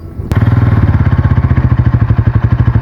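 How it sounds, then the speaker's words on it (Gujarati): A motorcycle engine fires up with a sharp catch, then settles into a loud, close, steady idle of rapid, evenly pulsing thumps and mechanical clatter. "બાઇક સ્ટાર્ટ થઈ ગઈ છે અને ગેરમાં નાખી તો પણ બંધ નથી થતી."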